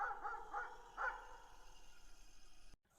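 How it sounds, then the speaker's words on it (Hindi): Two cartoon dogs bark in a short burst of several sharp, close yaps during the first second, then fall silent, leaving only a faint background hiss. "2 कुत्ते उसे देखकर भौंकने लगते हैं।"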